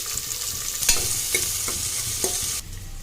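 Green chillies, onion and curry leaves crackle in hot ghee inside a cooker, a close, dense sizzle broken by a few sharp stirring knocks. The frying noise drops suddenly near the end.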